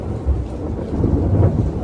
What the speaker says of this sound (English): I don't know if y'all can hear that or not, but that's thunder.